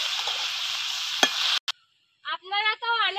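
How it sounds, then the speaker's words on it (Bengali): Vegetables sautéing in a pan with salt and turmeric: a steady sizzle with one sharp clink, cut off after about a second and a half, followed by a short stretch of voice. "এবার একটু সবজিটাকে ভালো করে কষিয়ে নেব"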